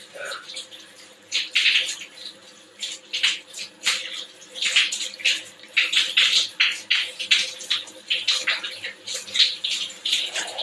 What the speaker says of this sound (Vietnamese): Sau khi mình rửa lại rồi